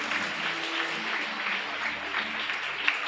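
A church congregation claps their hands together during a morning worship service, producing a dense, continuous wash of applause that stays steady and fairly loud throughout, with no clear voices above it.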